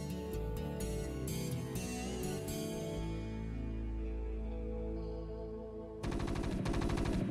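Rapid gunfire from StarCraft: Brood War cuts down Terran civilians, arriving in dense, loud bursts over steady game music, with a pause in the middle before a final volley.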